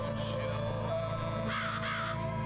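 Within The Cat Lady video game, a crow gives a couple of harsh caws over a droning low-pitched musical bed, both moderately loud and close.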